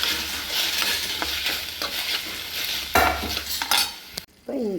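Fried gobi manchurian is stirred through sauce mix in a pan: a spatula scrapes and knocks rhythmically against metal over a steady sizzle, close and fairly loud, with a sharp clatter near the end.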